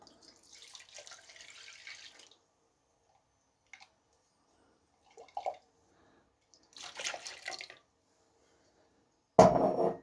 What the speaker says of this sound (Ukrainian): Виливаю цю суміш у миску.